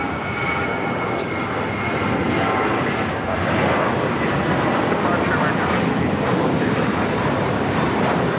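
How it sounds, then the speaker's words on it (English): A Breeze Airways jet taking off at LAX, heard as a broad, steady roar of aircraft engines with wind noise, loud and continuous throughout, with a radio voice faintly mixed in. "that was Breeze 707 taking off to Jacksonville"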